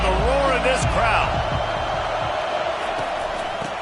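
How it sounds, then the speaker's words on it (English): A football stadium crowd roars loudly and steadily throughout, with a broad wash of noise under a commentator's voice and scattered thuds in the background. "listen to the roar of this crowd"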